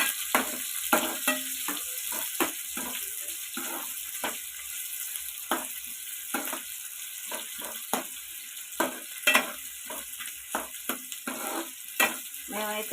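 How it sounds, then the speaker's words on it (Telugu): Natukodi country chicken pieces fry in a hot pan, giving a steady bright sizzle broken by sharp crackles and spatters and occasional stirring knocks, with no talking. "కొంచెం మగ్గనిచ్చినాక చికెన్ వేసేస్తున్నాం."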